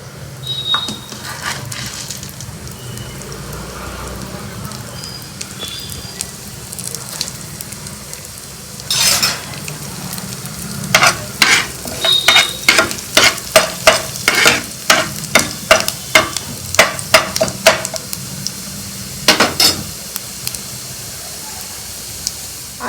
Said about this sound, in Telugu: వీటికి తోడు 1 స్పూను పచ్చిశనగపప్పు వేయిస్తున్నాను, కొంచెం 1/2 స్పూను జీలకర్ర